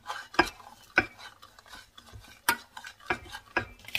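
Coconut milk being stirred in a pot, with a spoon scraping and knocking against the metal in irregular strokes, several sharp clinks standing out over a quiet background.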